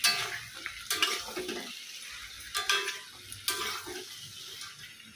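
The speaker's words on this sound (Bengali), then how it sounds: "পেঁয়াজ দিয়ে দেবো। এবার ভালো করে মিশিয়ে" Sliced onions being stirred into hot oil in a pan: soft, moderate sizzle broken by intermittent clinks and scrapes of a utensil against the metal, fairly quiet and close.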